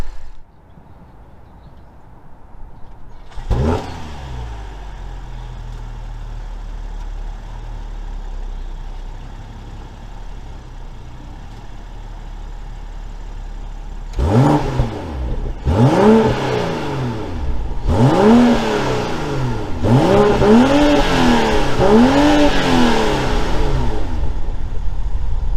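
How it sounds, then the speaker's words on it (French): BMW M340i with a biturbo six-cylinder of 374 horsepower, first idling low and steady, then revving hard through several rising and falling pulls that build louder, heard from inside the car. "on se retrouve à bord de la série 3 M40i, le fameux 6 cylindres biturbo 374 chevaux"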